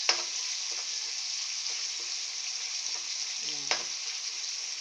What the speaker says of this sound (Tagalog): Prepare ko po guys na lutuin mabuti yung kamatis kapag nagigisa ako